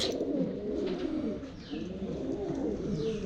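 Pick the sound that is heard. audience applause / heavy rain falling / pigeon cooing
pigeon cooing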